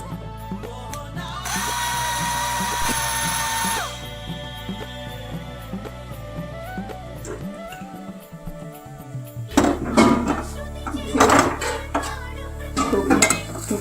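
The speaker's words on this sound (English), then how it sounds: "Then some green chilies. Then grind it." A mixer grinder blends green chilies into a paste. A brief, steady high whir cuts in and stops after a couple of seconds, followed by the clink and clatter of kitchen utensils.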